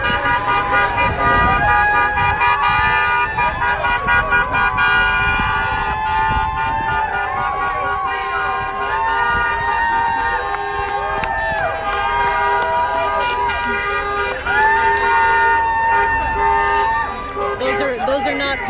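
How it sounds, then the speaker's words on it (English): Steady stream of cars passing a street protest outside a governor's mansion in Minnesota, horns tooting repeatedly over loud crowd noise and a broadcast speech, dense and continuous throughout. "Those are all cars going past."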